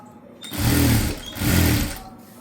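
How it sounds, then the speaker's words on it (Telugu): A sewing machine runs two quick bursts of stitching around a blouse lining, loud and close, with a brief pause between the runs and no talk. "క్లాత్ లైనింగ్ క్లాత్కి పర్ఫెక్ట్గా రావడం కోసం ఇలాగ ఈ విధంగా చుట్టూ స్టిచ్ చేసుకోవాలి."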